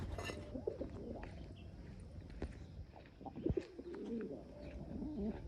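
Pigeons feed on scattered grain outdoors, soft low cooing rising now and then over quiet background rustle and faint chirps, with a few sharp taps and flutters mixed in.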